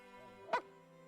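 A single short dog bark sounds once from a video game, a brief yelp rising over a steady synthesized music drone.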